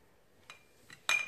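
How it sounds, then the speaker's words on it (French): Microwaved dates mashed with a fork in a dish: three brief metallic clinks and scrapes, the last one loudest, with no talking. "je vais les écraser à l'aide d'une fourchette"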